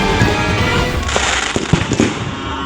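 Fireworks and firecrackers exploding along a row of stalls in Barangay de la Paz, Antipolo City, set off by a stray fountain firework: dense crackling and popping with irregular sharper bangs, loud and continuous, no speech.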